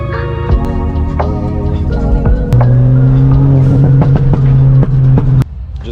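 A Ford Fiesta with freshly fitted camber bolts on a test drive, its engine droning loudly from inside the cabin, with rising and falling harmonic tones as it accelerates and shifts.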